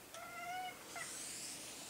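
A cat meows faintly in a yard where birds are feeding, giving one drawn-out tonal meow followed by a shorter, higher call, alone with no talking.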